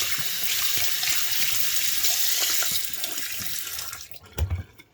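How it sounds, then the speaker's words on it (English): Tap water runs steadily into a sink while an aquarium sponge filter is wrung out beneath it, a continuous splashing rush that thins out near the end with a few soft knocks. "to clean this filter, you basically turn on your water, and then the only thing you are doing is you're basically just kind of wringing it out"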